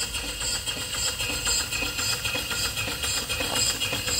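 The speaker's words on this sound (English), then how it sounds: "Here's my next project, the Worthington steam pump." Rhythmic mechanical chugging of an antique Worthington steam pump feeding water to a boiler, steady pulses with hissing and clanking, close and continuous.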